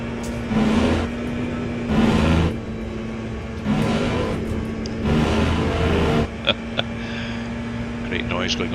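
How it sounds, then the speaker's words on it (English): In the racing game Le Mans Ultimate, a race car engine drones steadily while repeated bursts of buzzy, rattling roar come and go as tyres hit rumble strips, with talking underneath. "Great noise going over the rumble strips."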